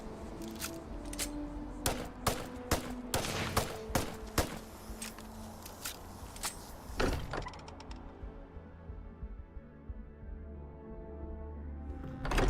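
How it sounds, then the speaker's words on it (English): Video game gunfire: a string of sharp, irregular shots, some rapid and some spaced apart, followed by a quieter rumbling stretch. "What the hell are you firing at?"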